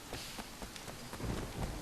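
Steady rain pattering on a street in the open-world game Sleeping Dogs, a dense hiss broken by soft clip-clop-like drips and splashes, with no voices.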